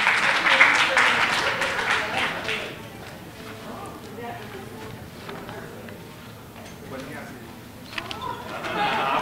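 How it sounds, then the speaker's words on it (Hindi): An audience at a student union event in India gives loud applause welcoming a newly named union president, a dense burst of clapping at the start that fades into murmuring crowd noise and resumes toward the end. "एक बार जोरदार तालियों से इनका स्वागत करेंगे।"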